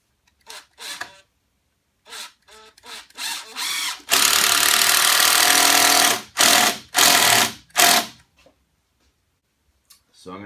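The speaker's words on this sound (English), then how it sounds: "Now I'm going to put the screw in." Power screwdriver driving a screw into a workbench during a glue-up repair: short bursts of whirring motor, one long sustained run, then several brief pulses, with quiet gaps between.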